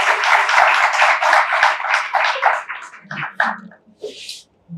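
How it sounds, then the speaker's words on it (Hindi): Conference audience bursts into loud, dense applause that thins into scattered individual claps and fades to near silence by the end. "आप सबकी जोरदार तालियां।"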